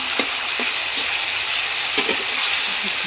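Tomato frying in a pan gives a loud, steady close-up sizzle, broken by a few soft knocks and scrapes as a spoon stirs it.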